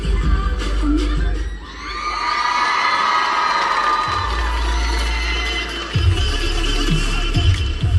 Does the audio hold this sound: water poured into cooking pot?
no